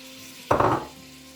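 Asparagus hits a hot frying pan with a sudden, loud burst of sizzling that lasts about a third of a second, then settles into a quieter, steady hiss.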